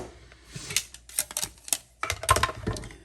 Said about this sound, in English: so let's bring in the mini Stampin' and Cutting and Emboss machine